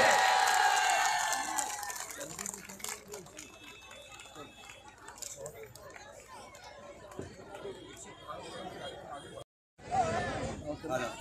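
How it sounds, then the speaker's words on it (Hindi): Crowd at a village Viksit Bharat Sankalp Yatra program in Kapna, near Khurja, with a broad wash of clapping, cheering and chatter held at a steady level, a brief silent gap, then a renewed burst of applause. "स्वागत में ताली बजाएं।"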